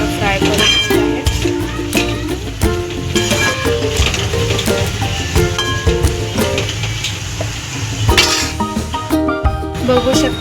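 Onion frying in a pan for sukha chicken, stirred with a utensil that clanks and scrapes against the metal in a busy, irregular rhythm over a soft sizzle, close and loud.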